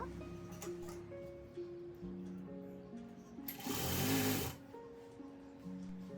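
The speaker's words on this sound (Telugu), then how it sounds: "ఎలాస్టిక్ని ఇలా లాగుతూ స్టిచ్ చేయాలన్నమాట ఎండ్ వరకు" A sewing machine stitches elastic onto sleeves, a steady mechanical whir running throughout with a louder, brighter burst near the middle, close and alone with no talking.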